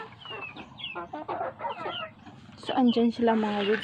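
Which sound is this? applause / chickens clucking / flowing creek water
chickens clucking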